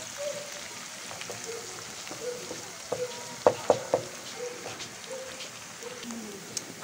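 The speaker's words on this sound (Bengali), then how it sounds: "এখন ভালোভাবে রসুন পেস্টটা ভেজে নেব।" Garlic paste frying with dried and green chilies in a pan for a water spinach dish, a soft, steady sizzle with a few sharp spatula clinks near the middle and faint background chirps.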